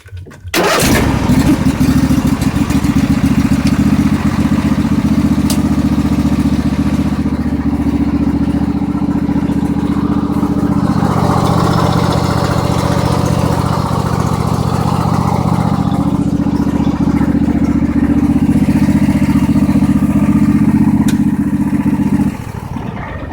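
Rebuilt motorcycle engine cranks and fires, then runs loudly and steadily close by for about twenty seconds with a throbbing idle and slight revving swells before shutting down.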